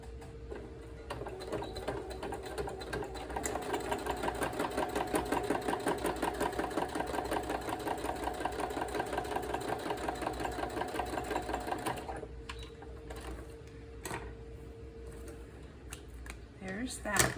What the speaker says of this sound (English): So I'm gonna sew, and I'm just gonna do it off camera.